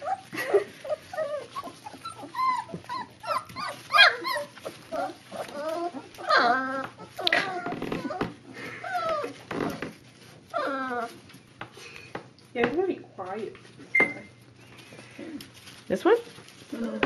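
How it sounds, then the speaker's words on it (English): Young puppy whining and whimpering in repeated high, wavering bursts close by, with people talking over and between the cries. "He's whiny. You're whining."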